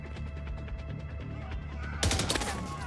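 Gunfire aimed at car tires in a Tom Clancy video game, a sudden burst of sharp, loud shots near the end, preceded by a steady background of game ambience.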